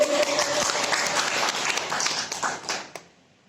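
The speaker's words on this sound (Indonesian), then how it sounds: "Bisa tepuk tangan dulu." Classroom participants clap together in a dense, lively burst of applause that holds steady, then thins into a few scattered claps and fades out near the end.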